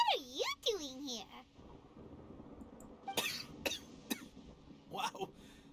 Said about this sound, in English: You have a cough now, all of a sudden.